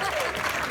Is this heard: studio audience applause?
yes